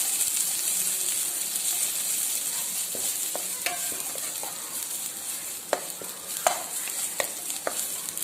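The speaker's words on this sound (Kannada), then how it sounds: "ಫ್ಲೇಮನ್ನು ನಾನು ಮೀಡಿಯಂ ಇಟ್ಕೊಂಡು ಹುರಿತಾ ಇದ್ದೇನೆ." Thin-sliced onions frying in oil over medium flame, a bright, continuous hiss of sizzling with intermittent scrapes and taps of a spoon stirring them around the pan, close and steady, no speech.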